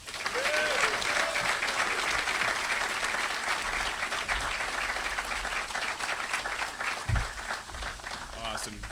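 Audience applauding at the introduction of a new UNLV head football coach, steady sustained clapping with crowd noise and some talk underneath.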